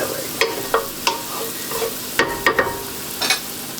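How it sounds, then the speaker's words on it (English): A spoon stirs baby spinach appetizer ingredients sauteing in a pan, giving soft scraping clinks at irregular intervals over a steady low sizzle, close and moderately loud with no talking. "This has been sauteing for about a minute or so."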